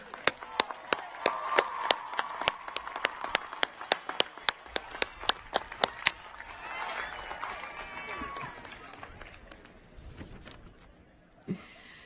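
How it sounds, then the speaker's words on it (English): Applause from a university commencement audience honoring staff for 40 years of service, a steady wash of many hands clapping with sharp individual claps standing out, fading into murmuring and scattered sounds toward the end. "Please stand for the applause they deserve."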